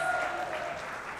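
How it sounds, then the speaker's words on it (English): Audience applause at an international conference and golden jubilee celebration of a hotel management institute, a dense steady burst of clapping from a large crowd lasting the whole moment. "One more big round of applause,"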